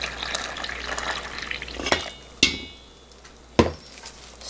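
Spoon work in a pot of cooled grain syrup mixture for gochujang: soft scraping and wet stirring, punctuated by three sharp knocks against the pot's rim or side, close up and with no talk.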